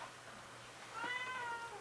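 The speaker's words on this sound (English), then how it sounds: "meowing under the door" A cat meows from behind a closed door, one drawn-out, wavering call that rises and falls, faint and muffled over a low background hum.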